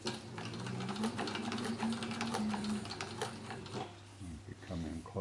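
A Cowboy CB 6900 heavy-duty sewing machine stitches through a thick strap, with a steady, rapid mechanical clatter over a low motor hum. It is close and fairly loud, then slows and breaks into a few separate thumps near the end.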